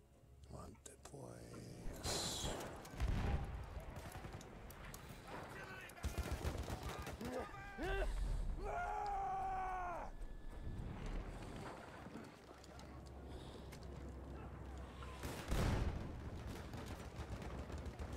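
Gunfire in the video game Battlefield 1 on PC, bursts of rapid shots and scattered single cracks amid rumbling battle noise, heard under players' voices talking over the game.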